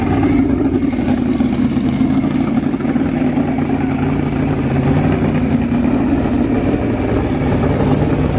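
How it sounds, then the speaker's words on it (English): Ken Block's twin-turbo Hoonicorn car engine revs loud and close, a steady roaring drone with rising and falling pitch that runs continuously for several seconds at a car show. "Ken Block's crazy Hoonicorn. Twin turbo."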